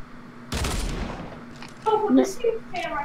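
Gunfire in the video game Fortnite, a burst of shots near the start followed by in-game tones and chimes, with players talking.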